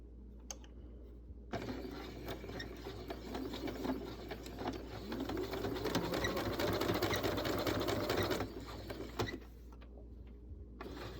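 A domestic sewing machine back stitches across a fabric face mask, a close, continuous motor hum with rapid needle chatter running for several seconds before stopping; no one speaks.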